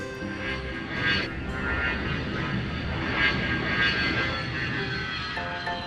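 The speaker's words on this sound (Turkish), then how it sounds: "Motorları çalıştıralım." A toy airplane's engines start up with a continuous, moderately loud whirring drone that swells slightly and holds steady, no voices over it.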